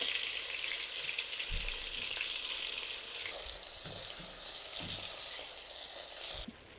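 Chicken pieces coated with salt and turmeric frying in hot oil, a loud continuous sizzle with occasional soft knocks and stirring, alone with no voices.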